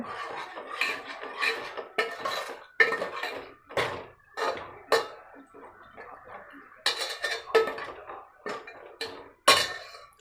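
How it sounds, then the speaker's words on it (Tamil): A spoon scrapes and clanks against a metal pot in repeated uneven strokes as thick Tamil sundakkai vathal kuzhambu curry is stirred after water is added, close and fairly quiet. "தண்ணி ஊற்றி நல்லா கிண்டி விட்டுக்கோங்க"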